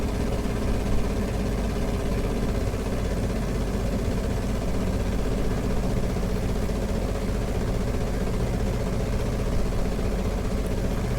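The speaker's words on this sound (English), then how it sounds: "Listen to that engine rumble." A steady, droning engine rumble of a Piper J-3 Cub in a VR flight simulator holds at a constant level throughout, low and even like a small propeller plane's motor running without a break.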